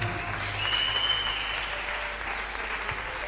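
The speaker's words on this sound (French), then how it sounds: "acclame bien" An audience claps at a church programme: dense, sustained applause that stays fairly even and close for the whole stretch, with a faint tone running above it.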